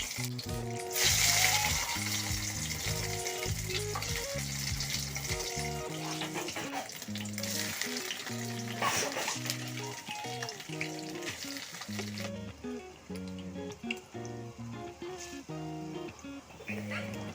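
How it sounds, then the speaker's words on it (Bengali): Long-cut paneer pieces shallow frying in oil over a low flame, a soft continuous sizzle under background music, with occasional clatter. "এখানে পনিরগুলো আমি হালকা করে ভেজে নিচ্ছি"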